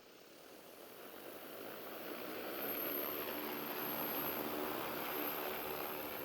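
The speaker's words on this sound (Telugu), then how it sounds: "జీపీఎస్ లేకుండా అయితే నేను ఇప్పుడు డ్రోన్ని ఫ్లై చేస్తున్నాను విత్ ఫుల్ ట్యాంక్తో." An agricultural spray drone flying with a full tank, its rotors making a steady broadband whirring drone that swells slightly louder as it approaches, with no voices.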